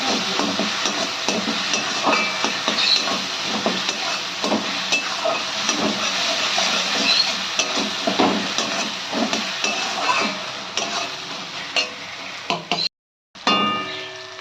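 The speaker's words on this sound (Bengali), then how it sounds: "ভালো করে আদা রসুনের পেস্ট দিয়ে কষিয়ে নিতে হবে।" Ginger garlic paste being sautéed with tomato in a pan for Patiala chicken, with continuous sizzling and occasional clinks of a spoon against the pan. The sound is close and steady and drops out briefly near the end.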